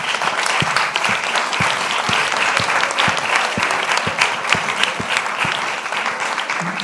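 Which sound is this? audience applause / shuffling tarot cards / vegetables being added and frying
audience applause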